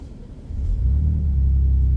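A 2025 Ford midsize truck engine starts up, a brief crank followed by a deep, close rumbling growl that settles into a steady idle.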